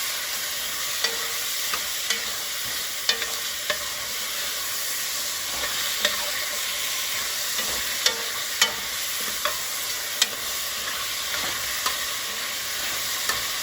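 Oxtail searing in a very hot, smoking pan gives a steady broad sizzle and frying hiss throughout, broken by scattered small pops and crackles, with no talking.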